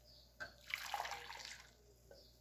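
Warm water pours into a container for about a second and a half, a soft, close splashing stream that starts and stops cleanly in an otherwise quiet room.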